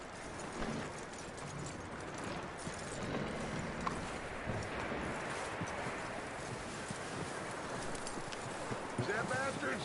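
Steady clip-clop of horse hooves at a trot in Red Dead Redemption 2, continuous and fairly close, with ambient noise throughout.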